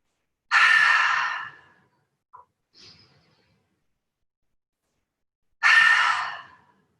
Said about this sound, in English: in through the nose, out through the mouth for 3 breaths